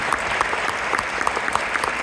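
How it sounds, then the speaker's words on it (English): Brief burst of audience applause for a student teacher at a school event, a steady patter of many hands clapping, moderately close. "We'll give her another round of applause."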